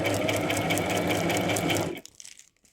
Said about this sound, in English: we're now going to run it through the sewing machine.